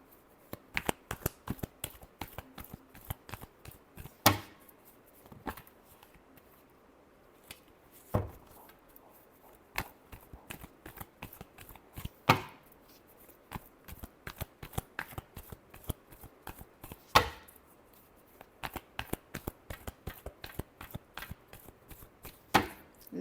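Tarot cards being shuffled by hand in repeated bursts of crisp riffling and sharp slaps, close and quiet, with pauses between rounds and no talking.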